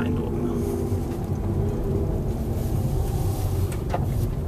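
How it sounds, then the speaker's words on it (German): A Nissan Leaf electric car rolls over gravel, its tires giving a continuous, close low crunching rumble with a broad hiss and no engine whine. "Man hört nur das Abrollgeräusch. Auf Kies hört man sowieso die Autos ein bisschen stärker."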